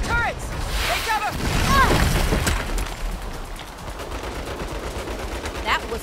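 Turret gunfire in the Saints Row video game pounds as repeated heavy shots near a waterfront, with shouting voices over the shooting and quieter, sporadic bursts continuing in the background.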